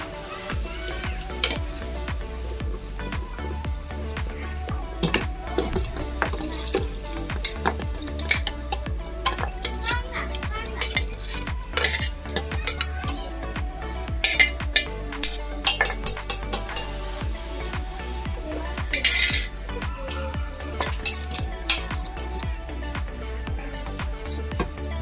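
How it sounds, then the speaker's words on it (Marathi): A cooked goat head goes into a hot pan and is stirred, giving a steady low sizzle under repeated clinks and scrapes of a utensil against metal over a long, continuous stretch with no talking. "आता मुंडी ऍड होते. बकऱ्याची मुंडी."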